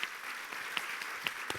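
An audience applauds its guests at the close of a talk about laughter, a steady wash of many hands clapping that carries on through the short moment without voices.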